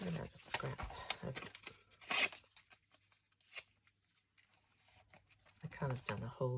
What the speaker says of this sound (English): I kind of done a whole video without tearing some paper.